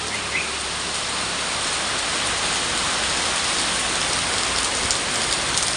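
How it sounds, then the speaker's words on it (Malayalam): Heavy morning rain pours steadily in a dense, continuous wash with some wind, loud and close throughout, with no voices. "നല്ല കിടുക്കം മഴ."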